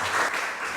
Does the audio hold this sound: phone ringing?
no